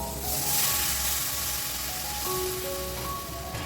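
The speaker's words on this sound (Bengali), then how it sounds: "এবার এতে জল ঢেলে দেবো" Water poured into a pan of sizzling Bengali fish curry gravy gives a steady, close, broadband hiss and crackle that holds for the whole stretch, with no talking.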